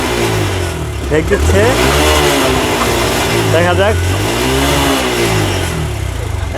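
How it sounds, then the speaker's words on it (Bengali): A TVS Stryker 125cc motorcycle engine runs unevenly and sputters as the carburetor fuel runs out, loud and close with uneven surges, while someone speaks briefly over it. "আমাদের বাইকে কার্বোরেটরের তেল প্রায় শেষ, দেখতে পাচ্ছেন ঢেক দিচ্ছে।"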